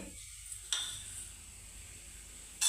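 Cloves, cinnamon and cardamom fry in a pan for a mutton chutney. Soft sizzling comes in short bursts, with a brief clink and stir between quieter moments.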